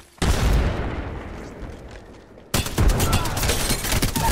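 An arc star grenade goes off with a loud burst amid gunfire in Apex Legends, followed by a sharp second blast and heavy ongoing shooting, close and dense.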